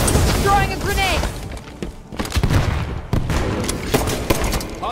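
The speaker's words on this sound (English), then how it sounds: "Throwing a grenade." Grenade blasts and gunfire in the Halo 5 multiplayer Slayer mode: heavy booms and rattling shots keep repeating through the scene, mixed with game voice lines and other in-game sounds.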